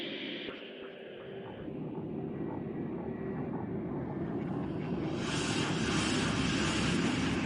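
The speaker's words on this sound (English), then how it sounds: "Let's add a monolith sound." A monolith sound effect from an iOS music app swells as a deep, sustained drone, its low rumble growing louder and brighter over several seconds with no voices.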